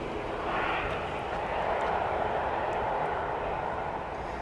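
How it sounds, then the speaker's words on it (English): A fixed-wing airliner taking off at Manchester Airport in a crosswind, its engine roar a steady, broad rumble heard from a distance, rising and swelling gently without a break. "they're taking off at a little bit of an angle, just to compensate for that wind that's coming in"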